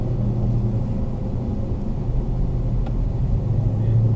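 Car cruising along an Arizona freeway beside a semi truck, with a loud, steady low engine and road rumble throughout and no speech.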